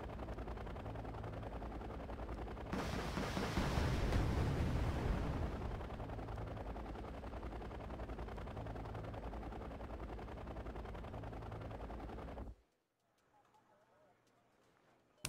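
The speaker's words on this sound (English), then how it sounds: "Here, have some artillery." Artillery fire in the Wargame Red Dragon strategy game: a loud rumbling blast swells and fades into a sustained roar of distant shelling, then cuts off abruptly near the end.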